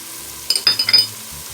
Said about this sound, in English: I'm going to go ahead and add my minced garlic in.